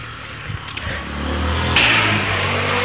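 Cars and motorcycles pass along a town street in the late afternoon, a continuous low engine rumble with a vehicle accelerating nearby and a brief louder swell midway.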